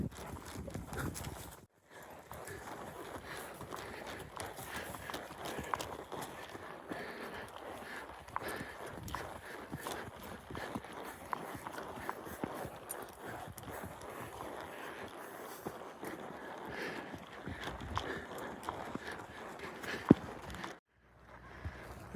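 Horses walking on a ride give a steady, close clip-clop of hooves that runs throughout with one brief pause, faint and unaccompanied by talk.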